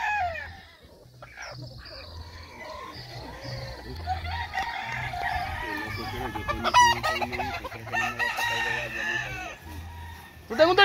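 A rooster crows and clucks nearby, repeated calls over a steady background of other birds and faint human voices.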